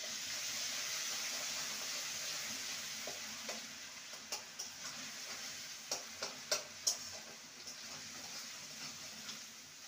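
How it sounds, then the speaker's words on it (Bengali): Ginger and sugar stirred while frying in a pan: a steady soft sizzle throughout, with a series of light scraping and clinking stirs growing more frequent toward the middle and end. "ভালো করে নেড়ে নেব।"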